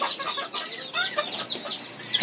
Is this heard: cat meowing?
no